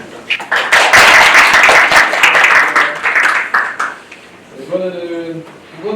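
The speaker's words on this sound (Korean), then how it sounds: "박수 한번 부탁드립니다." Audience applause at a university performance forum swells quickly into dense clapping, holds for a few seconds, then fades out as a voice begins speaking near the end.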